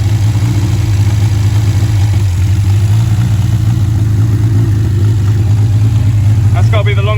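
The engine of a 1959 Reliant Regal, being run on partial choke, idles in a steady, loud low-pitched drone close by, with a brief rattling sound near the end.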